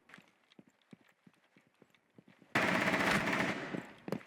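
Gunfire in the video game Rainbow Six Siege: faint scattered clicks and steps, then a loud sustained burst of automatic fire lasting about a second, followed by a few softer thuds.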